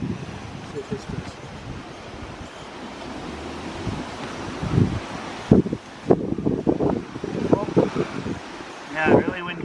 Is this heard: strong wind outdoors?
yes